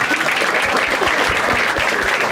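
An audience at a stand-up comedy show breaks into applause, a dense, steady burst of clapping that fills the short moment.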